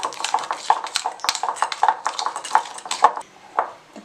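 A spoon stirs warmed milk and melted chocolate for a donut glaze, with quick, close scraping swirls and light metallic clinks against the bowl or pan in an irregular rhythm.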